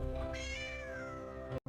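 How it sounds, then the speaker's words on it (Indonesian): A cat gives one drawn-out, faint meow that rises and then slowly falls in pitch before cutting off abruptly. "setiap kali kucingmu mengeong minta perhatian"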